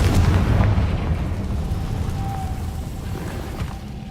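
A Confringo blasting spell explodes in the Hogwarts Legacy video game with a heavy, low boom up front that rumbles and slowly decays over several seconds.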